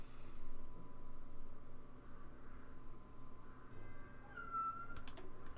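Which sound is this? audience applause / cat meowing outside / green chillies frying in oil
cat meowing outside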